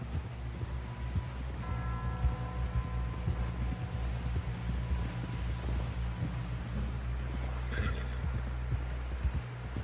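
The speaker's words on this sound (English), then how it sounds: "Someone help John down off this horse" A horse in the game Red Dead Redemption 2 clip-clops at a steady walking rhythm and lets out a whinny partway through, with outdoor ambience underneath.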